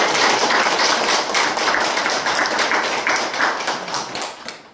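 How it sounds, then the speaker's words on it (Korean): An audience at an education seminar gives a welcoming round of applause, a loud, sustained wash of many hands clapping that tapers slightly toward the end, with no speech over it. "여러분들 뜨거운 환영의 박수를 부탁드리겠습니다."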